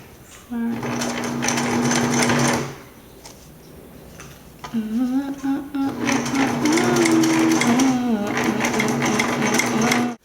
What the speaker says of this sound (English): you're just gonna go ahead and sew one line